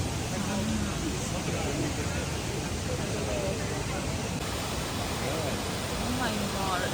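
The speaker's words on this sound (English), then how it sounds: "Oh, this is waterfall." Waterfall in Karuizawa, Nagano, a constant broadband rush of falling water filling the scene, with faint voices of people nearby mixed underneath.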